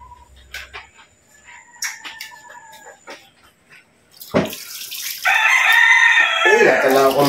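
A rooster crows loudly and close by near the end, a long strained call that follows scattered clucks, a barking dog and light kitchen clatter from someone cooking with oil.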